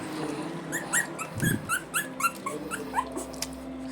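A Shih Tzu puppy, one month and ten days old, whimpers in a quick string of thin, high yelps and whines, close but quiet, with a soft low grumble midway.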